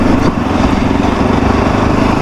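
A new RX3 motorcycle is ridden slowly while being broken in, its engine droning loud and close in a steady buzzing note with a slight dip near the start.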